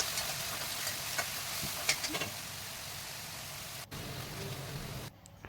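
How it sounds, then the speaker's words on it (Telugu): Chopped onions frying in oil in a kadai give a steady, close broadband sizzle with light stirring scrapes, a brief dropout near the end. "చిన్న చిన్న ముక్కలుగా కట్ చేసుకొని వేపుకున్నాను"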